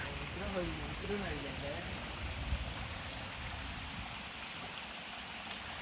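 Steady, dense monsoon rain hissing continuously in the Konkan region of India, with a voice speaking briefly near the start over the downpour.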